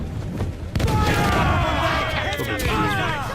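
Heavy ship cannons firing in Assassin's Creed IV Black Flag, a sudden loud boom that swells into a sustained roar of overlapping blasts with whistling shots, dense and close.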